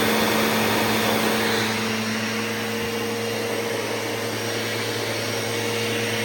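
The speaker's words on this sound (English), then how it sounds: "the vacuum will turn on, like so." A Bissell Rewind Cleanview Pet upright vacuum cleaner runs steadily up close, a loud constant motor whine with a steady low hum and an airy rush that never varies.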